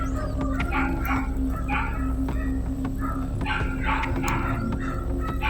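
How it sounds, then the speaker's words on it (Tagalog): A dog barks and yips repeatedly at a moderate distance, in short irregular bursts over a steady low background hum. "Kaya tinatahol ng aso."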